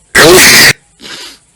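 A man lets out one loud, forceful sneeze lasting about half a second, followed by a softer, quieter exhale or murmur.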